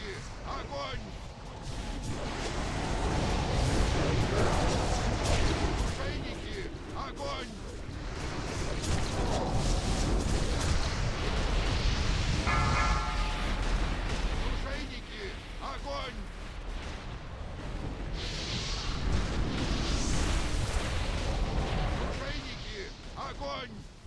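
Heavy booming ship cannon blasts and rumbling fire in a video game roll on continuously, loud and dense, with game-style battle noise and a voice speaking over parts of it.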